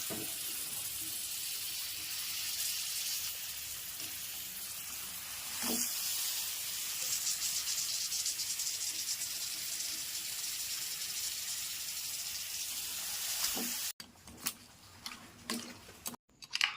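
Steady hissing sizzle as crab goes into hot masala in a clay pot, a continuous frying hiss for most of the time, then broken by clattering and stirring near the end.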